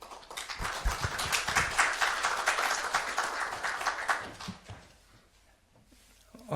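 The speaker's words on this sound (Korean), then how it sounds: "목사님 나오실 때 박수로 인사하겠습니다" Staff worship service audience at a broadcasting company headquarters applauds to welcome the pastor. The clapping is dense and steady for about four seconds, then fades quickly into near quiet.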